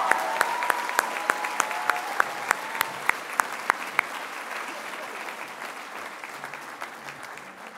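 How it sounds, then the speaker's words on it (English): Applause for a staff member rings out at a high school graduation ceremony: steady, moderately loud clapping from a large audience in a hall, with sharp individual claps that gradually thin out. "Please, please give her the biggest round of applause."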